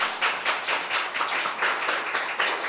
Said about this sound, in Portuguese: bom aplauso para Grego